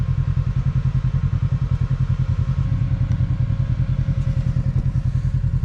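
A KRX or RZR UTV engine rumbles loud and close with a steady, throbbing low idle-to-crawl pulse as it drives across a fallen tree blocking a trail, with faint clatter over the drone.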